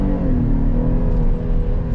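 Heard from inside the cabin, a 2023 Chevy Traverse High Country with a V6 in two-wheel drive accelerates, its engine giving a loud, steady drone and rising hum that carries through with no talking.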